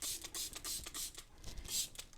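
A few quick hissing spray bursts of oven cleaner from a trigger bottle, close and fairly loud, with short pauses between pumps.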